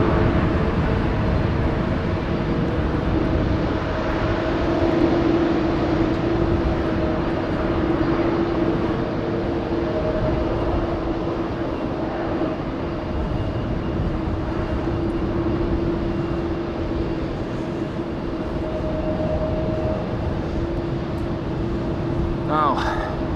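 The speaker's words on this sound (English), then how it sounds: "That is KLM flight 877 that you saw going to Mumbai." An Airbus A330 jet airliner takes off at Amsterdam Schiphol airport on a windy day, its engines producing a loud, sustained roar with a steady tonal whine, heard throughout the recording.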